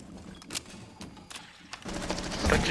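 Gunfire in Rainbow Six Siege: several sharp, separate shots crack out in the first two seconds, then denser firing and rumbling impacts build toward the end, all fairly close and moderately loud.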